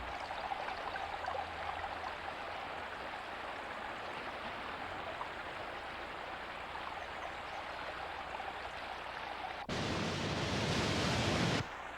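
Continuous gentle rush of Eels Creek flowing, steady and fairly faint, briefly swelling louder near the end.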